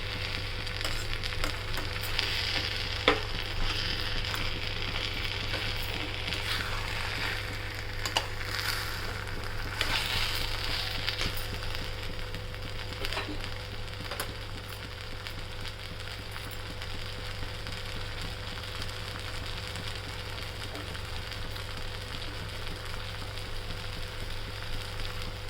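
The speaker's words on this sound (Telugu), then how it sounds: "ఈ మసాలా ముద్దంతా బాగా వేగాలి." Masala paste sizzles and fries steadily in a pan while paneer curry is being prepared, a continuous close, even crackle with no talking.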